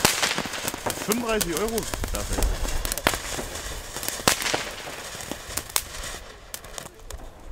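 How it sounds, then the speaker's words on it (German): Crackling stars from a Lesli Black Devil XXL firework assortment box burst as a scatter of sharp pops and crackles, fairly close, while people talk over them. "da waren so ein paar einzelne Knallsterne drin"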